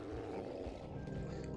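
In the Solasta video game, a creature runs forward with a low, sustained roar over a dense rumbling background at a moderate distance.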